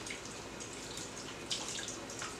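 A kitchen tap runs steadily while fresh homegrown kale leaves are rinsed under it, a close, constant splashing wash of water with a slightly louder splash near the end.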